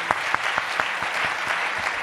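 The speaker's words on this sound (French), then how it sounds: "On peut vous applaudir" Audience applause after a talk with François Hollande on the new world order, a steady crowd clapping with a regular rhythmic beat of unified claps running through, moderately loud and continuous without speech.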